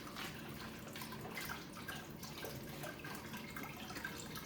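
Vodka pours steadily and slowly from a bottle with a pour top, a continuous soft trickling and gurgling heard up close with no talking.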